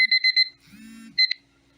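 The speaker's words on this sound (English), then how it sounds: "that was my alarm going off" An alarm clock going off in a kitchen, sharp high electronic beeps in quick repeated bursts, broken by a brief lower buzzing tone, then a final beep pair, close and loud.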